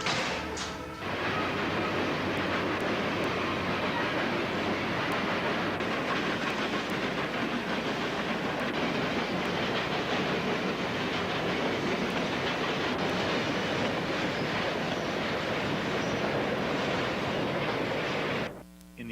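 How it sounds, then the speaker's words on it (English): A train rumbles past on a historic railroad line, a dense, loud roar of wheels and rail clatter that swells in quickly, holds steady for a long pass, and cuts away at the end. "When the trains approach, the modelers fly out the door"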